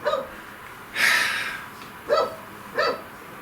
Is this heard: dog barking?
yes